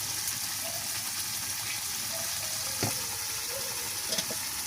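Water poured into a pan of frying koi fish for Bengali tel koi, a loud steady sizzle and bubbling hiss with a few clinks of a stirring utensil against the pan, and no speech.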